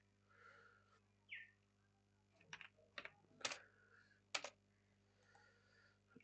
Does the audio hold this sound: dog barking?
no